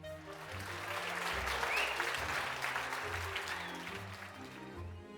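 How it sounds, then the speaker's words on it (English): A crowd applauds steadily after a formal speech at a noble marriage gathering, the clapping a sustained wash over low, tonal background music. "There's a round of applause at Servilia as Servilia finishes her speech."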